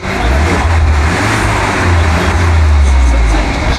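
A turbocharged Mercedes-AMG A-Class engine runs loud and close with a steady, gruff roar and a slight whooshing edge, no voices over it.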